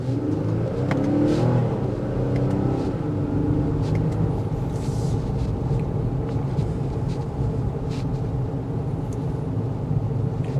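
A 2024 Nissan Pathfinder Rock Creek with a 9-speed automatic accelerates in sport mode, giving a continuous, fairly loud engine drone and road rumble heard from inside the cabin, with no talking.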